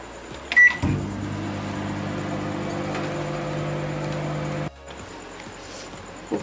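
A microwave oven heating paneer makhani, a door click and knock followed by a steady loud motor hum that runs for several seconds and then cuts off abruptly.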